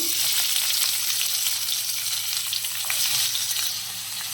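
Onions sizzle loudly in hot oil in a pan already holding cumin, dried red chilies and urad dal, a dense, continuous crackling hiss that stays close and even, easing slightly near the end.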